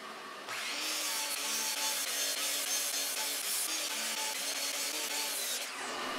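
A table saw or power saw cuts wood pieces for end-grain cutting boards, starting abruptly with a sustained whining, rasping cut that holds steady for about five seconds, then stops.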